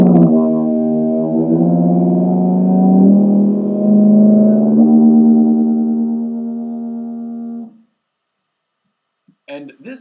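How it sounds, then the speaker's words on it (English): Tuba sounds a sustained low note while the player sings into it at the same time, giving a buzzing, rich multiphonic tone that wavers and shifts for several seconds before stopping; brief talk follows after a pause. "the player might play and sing a note at the same time"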